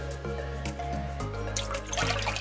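Water pours steadily into a container for bread dough with yeast and oil, a close, continuous splashing trickle that thickens and brightens toward the end.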